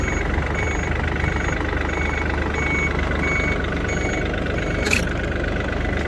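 A Yanmar FX235 mini tractor engine drones at a steady low idle while reversing, with a faint, evenly spaced high beep repeating over the engine noise and a brief clunk near the end.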